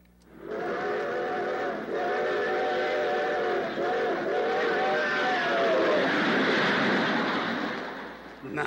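Recorded train sound played back from a small toy sound box: a steady rumbling, clattering passage with tonal whistle-like bands, loud and continuous for most of the clip before easing off at the end.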